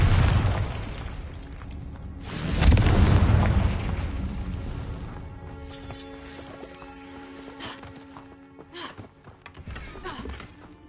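The Confringo blasting spell erupts in a booming explosion in Hogwarts Legacy, swelling over the first few seconds before fading into a long rumbling tail with lighter game sounds.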